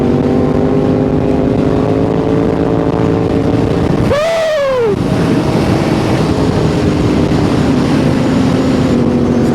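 A group of motorbikes rides together on the way to a car meet, engines droning loudly and continuously close by with one rising rev in the middle, wind roaring across the microphone throughout.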